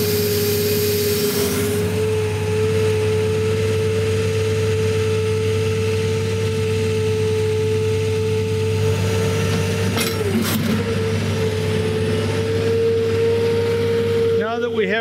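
A Larson cable trailer's engine drones loud and steady while it lifts a dumpster onto the trailer bed, with a brief metallic rattle near the end.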